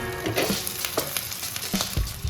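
Water hits a hot pan of frying paneer cubes and green peas for matar paneer, setting off a loud, steady sizzle with bursts of crackling and spitting, and no talk over it.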